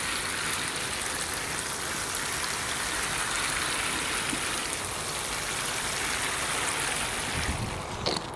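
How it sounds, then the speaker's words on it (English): Water pours steadily into a 30-liter bucket of potatoes, a continuous close rushing splash that lasts throughout and changes briefly near the end. "give this another good watering"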